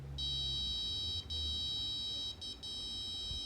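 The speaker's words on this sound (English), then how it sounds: "the buzzer will beep slowly and the light will become green" An ultrasonic sensor's high electronic buzzer tone sounds in long stretches broken by brief gaps, steady and fairly clear over a low background hum.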